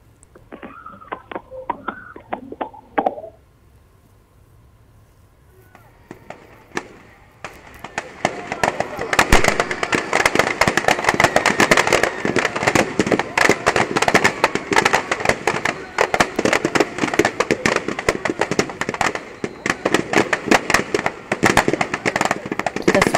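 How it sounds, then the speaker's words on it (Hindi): Vijayadashami festival fireworks and firecrackers burst in a rapid, relentless crackle of sharp pops and bangs. The noise is loud and fairly close and continues for about eighteen seconds, after a brief voice and a quiet lull at the start. "आतिशबाजी का माहौल इस समय पूरे देश में किया जा"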